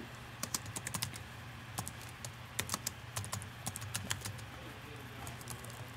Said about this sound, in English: It's going to ask you for a password, so we'll type the password in there.